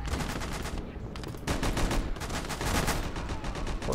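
Sustained machine gun fire rattles in rapid bursts through a World War II battle in Gates of Hell: Ostfront, loud and dense with overlapping gunshots and little talk.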